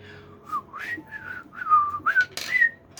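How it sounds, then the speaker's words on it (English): A person whistles a short, wavering tune, the notes sliding up and down and growing louder toward the end, with nothing else in the background. "That was the worst whistling I've ever done."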